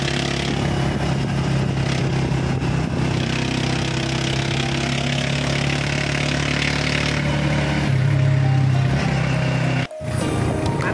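Motorcycle with a loud muffler revving on the street: a continuous, rough, droning engine roar that holds strong and swells near the end before cutting off abruptly, with no speech.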